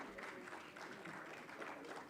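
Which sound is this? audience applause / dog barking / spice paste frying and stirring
audience applause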